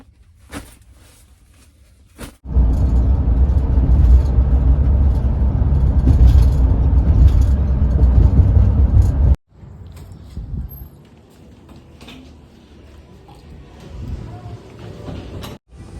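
A van drives along the road with a loud, steady rumble of engine and tyre noise for several seconds, then the sound cuts off abruptly and only quieter background noise remains.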